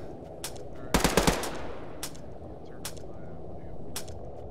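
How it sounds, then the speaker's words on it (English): Gunfire in a military tactical shooter game: a tight burst of four or five loud shots, then scattered single distant shots, all over a steady ambient bed with no one talking. "I'm hearing gunshots"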